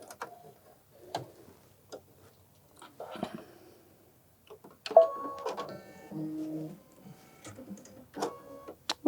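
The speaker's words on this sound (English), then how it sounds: "it's a placement stitch that we are stitching first" An embroidery machine stitches a peach placement outline for a bunny rabbit on a mug rug, giving a quiet ticking, intermittent mechanical chatter with short bursts and pauses.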